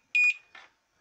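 A multimeter in continuity mode beeps while a passive component is probed against a pad during circuit board trace and pad repair: one short, loud, steady electronic tone, followed by a brief quieter rustle of handling.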